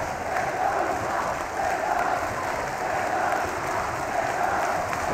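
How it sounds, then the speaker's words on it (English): Penn State volleyball crowd cheering and applauding at a home match against USC, a dense, steady roar of clapping and shouting that stays loud and continuous throughout with no breaks. "The Penn State crowd trying to will the Nittany Lions to this victory."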